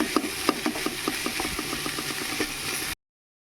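Tomatoes frying in a pan and being stirred, a steady sizzle under a rapid run of scraping stirs close by, ending abruptly.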